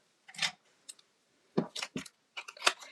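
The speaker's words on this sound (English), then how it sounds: "Let's fussy cut real fast." Scissors fussy-cut around a printed paper piece for a handmade birthday card, making a few crisp snips in quick clusters separated by short pauses, close and fairly quiet.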